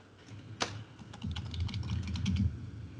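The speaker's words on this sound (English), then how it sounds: "All I hear is typing." Quick, steady clatter of fingers typing on a computer keyboard, close and fairly loud, opening with one sharp key strike and then running as a dense patter of keystrokes.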